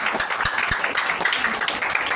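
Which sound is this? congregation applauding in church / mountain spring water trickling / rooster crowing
congregation applauding in church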